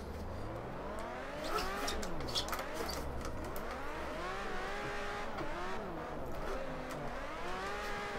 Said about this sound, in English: Nice smooth drift like that.